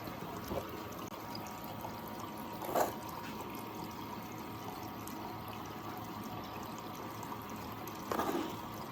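Water rushes steadily through a gold prospecting sluice in a continuous close wash, with a couple of brief splashing surges as material is fed in.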